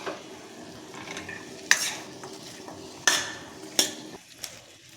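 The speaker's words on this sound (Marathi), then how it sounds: "आता जे वाटण आपण परतून घेतलं होतं ना ते वाटण या सर्व भाज्याला व्यवस्थित लागलं गेलं पाहिजे. त्यासाठी असं व्यवस्थित हलवून घ्यायचं आहे." A spoon stirs vegetables coated in fried spice paste in a pan for a Maharashtrian Bhogi mixed-vegetable dish, giving a steady soft scraping with a faint sizzle and three sharp metallic clinks against the pan, and no talking.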